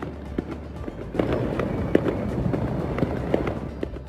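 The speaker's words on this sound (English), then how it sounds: "it was a loud night in Northeast Ohio with the sounds of fireworks heard outside our station" Fireworks go off outdoors at night in Northeast Ohio near a TV station, a run of irregular distant booms and sharp cracks over a rumbling background.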